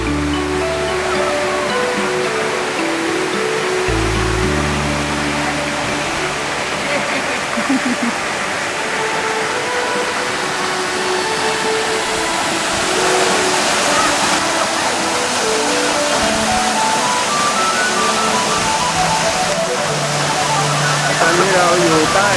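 Standing under a waterfall in rain at Nakhon Si Thammarat, Thailand: a loud, continuous roar of falling and splashing water fills the whole stretch, with people talking now and then beneath it.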